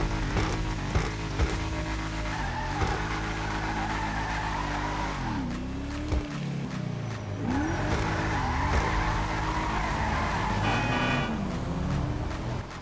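A Legendary Motorsport sports car in GTA 5 Online revs its engine with steady loud drone, rising and falling pitch sweeps, and squealing tires, continuous and close throughout.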